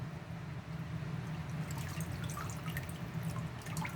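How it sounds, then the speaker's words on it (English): Water splashes and drips steadily as a raw chicken, a large bird, is rinsed and cleaned by hand, with a constant low hum and scattered small droplet sounds throughout. "I've got my chicken in the water and I'm washing it, getting it ready."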